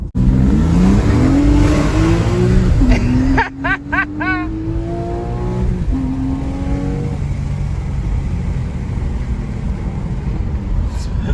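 Porsche 997 engine revving hard under acceleration, rising loud engine tone through gear changes with a sharp upshift midway, heard from inside the car and then settling into a steady cruising roar with road noise.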